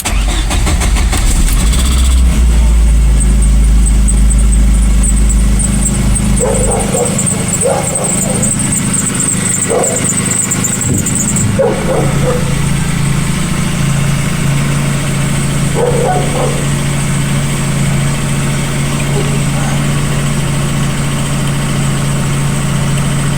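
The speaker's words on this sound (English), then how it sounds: "Let's start the car and see what happens" A car engine with a broken outer CV joint cranks and catches, then settles into a steady, loud, high idle in cold weather that runs on without pause.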